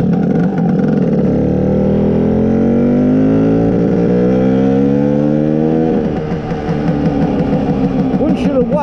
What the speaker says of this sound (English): The sound is very deep, quite a throaty deep sound